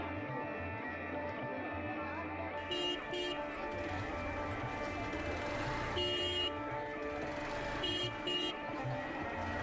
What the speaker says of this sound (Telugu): అసలు హార్న్ కొడుతున్నా జరుపుకోవట్లేదు.